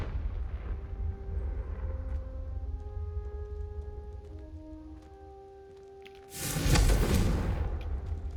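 A Confringo blasting spell goes off in Hogwarts Legacy: after a low rumbling bed with faint tonal notes, a sudden loud, broad explosion bursts near the end and rings out over the last two seconds.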